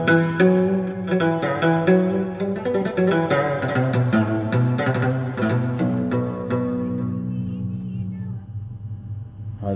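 Sampled oud-style plucked strings played on a Yamaha PSR-A5000 arranger keyboard, a busy run of bright plucked notes over sustained low tones that fades into a ringing tail near the end, with no talking.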